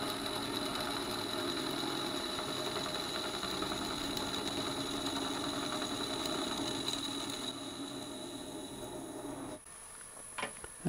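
A metal lathe takes a cut inside a Morse taper, giving a steady droning machine hum with faint mechanical chatter that holds for most of the stretch, then drops away near the end.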